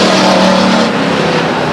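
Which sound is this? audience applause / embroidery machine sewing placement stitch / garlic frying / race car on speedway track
race car on speedway track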